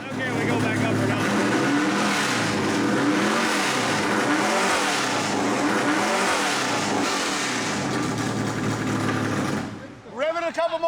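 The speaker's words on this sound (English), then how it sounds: "Rev it a couple more times" A NASCAR race car engine revving loud and close in repeated rising and falling surges for about ten seconds, then cutting off abruptly.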